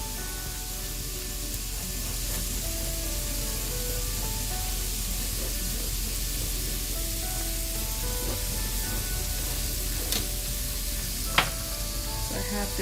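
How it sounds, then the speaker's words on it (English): Pork browns in a hot pan on the stove, giving a steady, loud, close sizzle and crackle that runs unbroken throughout, with a couple of sharp pops near the end. "the pork continues to brown and cook on the stove"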